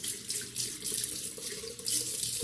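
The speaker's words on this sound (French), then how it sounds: "je vais me rincer les mains" Hands are rinsed under a running bathroom tap, the water pouring steadily and close with a bright splashing hiss that continues throughout, alone without talk.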